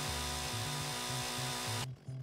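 Chainsaw cutting through a log in a VR tree-felling line worker game, a loud continuous buzzing whine with a pulsing engine rhythm that drops away abruptly near the end.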